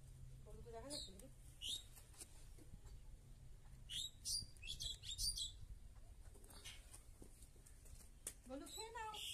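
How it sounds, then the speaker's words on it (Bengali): Small birds chirp and call repeatedly around a home during daytime chores, bright twittering notes coming in scattered bursts over a low steady background rumble. "আর এই যে পাখি ডাকছে,"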